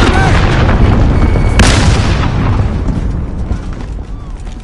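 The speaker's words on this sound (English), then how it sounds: "Enemy cruise missile incoming." Cruise missile strike in Call of Duty Modern Warfare: loud, heavy explosion noise fills the first half with a sharp burst near the middle, then rumbles and slowly fades, with game voice callouts mixed in.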